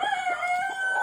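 A rooster crows once, close and loud, a single sustained call lasting about a second with no other sounds around it.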